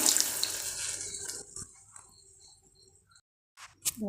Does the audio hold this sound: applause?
no